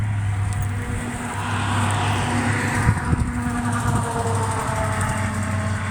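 Steady low engine rumble of a vehicle maneuvering a trailer back beneath a small Amish-built cabin outdoors, a continuous idling drone holding even throughout with no talk.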